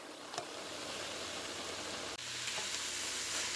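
Cabbage and carrots cook down in a pan with a steady faint sizzle and hiss, one brief click partway through, no talk.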